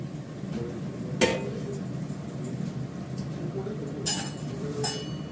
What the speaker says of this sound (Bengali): ভাতটা একটু নেড়ে দেবো।